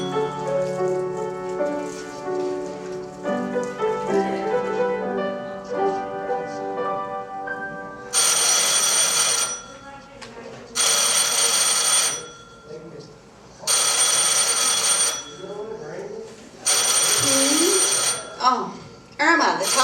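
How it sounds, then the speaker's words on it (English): An old telephone bell rings in repeated long bursts with short gaps, loud and close, after a stretch of soft background music. "Oh, Irma, the telephone."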